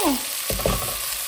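Potatoes and carrots fry in hot oil with a loud, steady sizzle, broken by a few stirring scrapes and clatters of a utensil in the pan.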